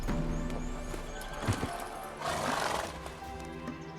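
Roach, Geralt's horse in The Witcher 3, lets out a close whinny and snort amid the clatter of hooves, with a louder burst of neighing and stamping midway through.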